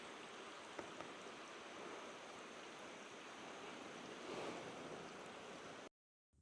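Tham Phra waterfall at Phu Wua, Bueng Kan pours in a steady, loud, broadband rush of falling water that holds constant before cutting off abruptly near the end.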